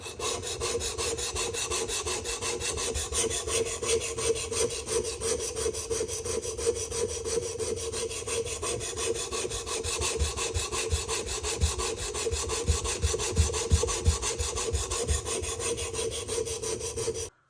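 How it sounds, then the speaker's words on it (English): Knife blade sharpened on a 100 grit stone in a Tsprof KO3 Pro sharpener, a steady, continuous rasping scrape that keeps a constant rhythm throughout, close and fairly loud, with no voices. "we formed our burr with the 100 grit stone"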